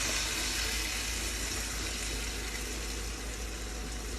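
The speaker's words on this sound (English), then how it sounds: "go ahead and put in my vegetable broth into the pan" Vegetable broth pours steadily into a pan for gravy, making a continuous soft, hissing splash that stays fairly quiet and even throughout, with no talking.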